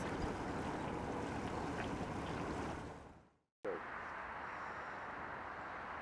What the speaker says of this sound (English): Spectrum passing. He's enjoying his new electric outboard.